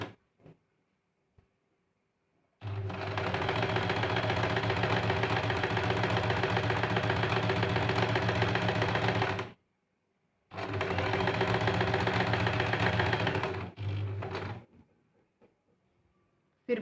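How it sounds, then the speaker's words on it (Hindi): An electric sewing machine stitches a blouse in two long, steady runs separated by a short pause, a loud close mechanical whir with a fast rhythmic clatter and faint clicks before and after. "इस तरह से दूसरी साइड से भी हम सिलाई कर लेते हैं।"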